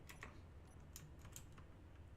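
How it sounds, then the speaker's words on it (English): Computer keyboard keys pressed during a Space Engineers gaming session, a handful of quick, faint clicks scattered over a steady low background hum, with no talking. "I press 4 on the keyboard and then 4 on my mouse to do absolutely nothing"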